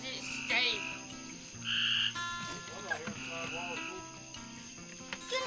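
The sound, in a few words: frogs croaking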